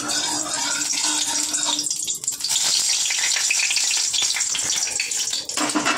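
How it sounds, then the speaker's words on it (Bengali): Eggplant fries in hot oil with a loud, continuous sizzle and crackle, close and steady throughout, with a brief dip partway through. "তো তেল গরম হয়ে গেছে, বেগুনটাকে একটু ভেজে তুলে নেবো।"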